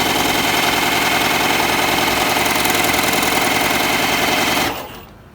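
A Tugi MK1919 overlock machine runs steadily and loudly, sewing a wide 3-thread overlock stitch with a fast, even mechanical whir up close, then winds down and stops near the end.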